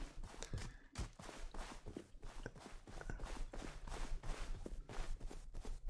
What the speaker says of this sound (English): You can hear the footsteps now, hopefully. I've programmed them in to make different sounds based on the landscape type you're on.